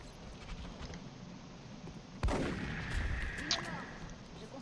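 A cannon blasts in the turn-based strategy game XCOM: Enemy Within, a single loud booming shot with a sharp attack followed by a ringing whine and a rumbling decay.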